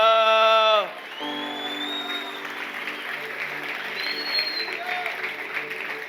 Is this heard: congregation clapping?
yes